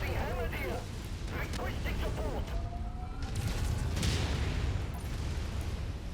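Mechs trade weapons fire in a jungle battle in MechWarrior 5: Mercenaries, with booming shots and crackling impacts scattered through six seconds. Voices and warbling radio-like tones run over the fire.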